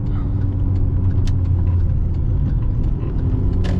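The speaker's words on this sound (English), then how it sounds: "behind the steering wheel of a Audi S3 8L BAM engine" Interior cabin sound of a 2002 Audi S3 8L with the BAM engine and Sportec tune, driving on a twisty, narrow French road: a loud, steady low engine and road drone with brief higher ticks.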